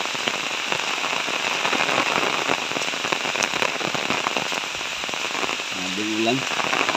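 Rain in Baybay, near Ormoc City, pours as a steady, dense patter with sharper drop hits on a nearby surface, and a brief voice sounds near the end over the constant downpour.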